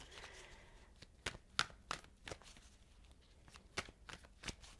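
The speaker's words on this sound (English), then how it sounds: "I'm going to shuffle" Tarot cards being shuffled by hand in a series of sharp riffling bursts with quiet gaps between them, fairly close and alone with no talking.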